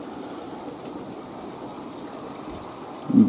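Steady, even hiss of rain falling, soft and continuous, with a brief low thump near the end.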